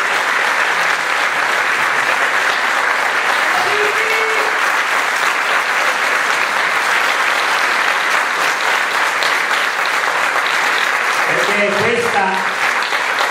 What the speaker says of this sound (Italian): al quale subito facciamo un grande applauso